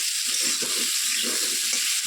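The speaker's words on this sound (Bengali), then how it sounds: "আলুগুলি একটু ভাজি হয়ে যাক আঁচটা কমিয়ে দিয়েছি" Potatoes fry in a pan over lowered heat, giving a steady, even sizzle with soft stirring scrapes underneath.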